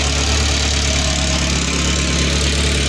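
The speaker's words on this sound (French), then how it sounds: "Tu laisses tourner la voiture jusqu'à ce que ton ventilateur il se mette en route" A Renault 4L sits idling while its cooling system is bled, the engine giving a steady, close mechanical hum with a faint knocking rattle and no talk.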